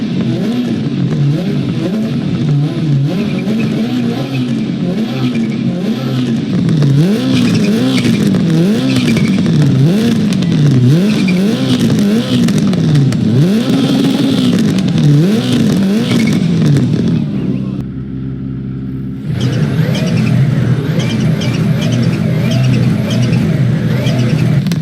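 A rally car engine in the EA Sports WRC video game revs hard and continuously, its pitch rising and falling through gear changes, loud and close, with a brief drop-off near the end before it roars back.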